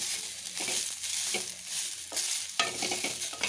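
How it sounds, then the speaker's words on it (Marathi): Cluster beans stirred and dry-sautéed in a pan over a low flame before tempering, a continuous scraping and rustling stir with a soft underlying sizzle, close and without talk. "भाजून घेतली असं म्हटलं तरी चालेल असे परतून घ्यायची मंद याच्यावरती"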